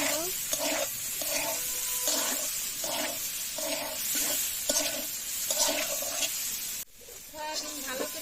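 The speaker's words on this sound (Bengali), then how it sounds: "সয়াবিন ভালো করে ভাজা হয়ে গেছে" Soybean chunks fry in a pan with salt, turmeric and chili powder while being stirred, giving steady sizzling with regular scraping strokes throughout and a short dip near the end.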